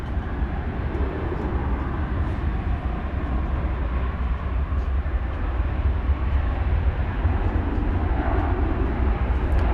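A Fiji Airways jet airliner at DFW airport, heard as a steady, broad engine roar and rumble that holds evenly loud throughout, with no talking.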